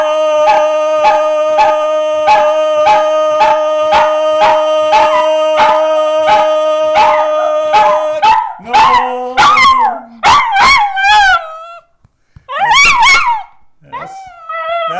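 A dog howls loudly and close by. A steady droning tone with rhythmic pulses comes first, then wavering howls rise and fall in separate bursts.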